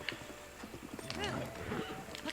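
Horse hooves clip-clop in a rhythmic trot and a horse gives a short whinny in the Zelda: Breath of the Wild video game, moderately quiet, with someone talking over it.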